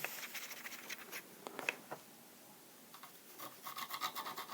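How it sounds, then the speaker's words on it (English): A dry brush, cut down from a normal brush, scrubs in short rasping strokes over a painted Age of Sigmar miniature, quiet and close, with a brief pause midway. "I've got my little brush that was a normal brush and cut into a dry brush"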